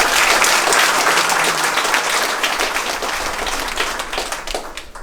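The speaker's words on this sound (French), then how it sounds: "Vous pouvez vous applaudir." An audience at a French municipal election list presentation claps in sustained, dense applause that starts loud and slowly tapers off.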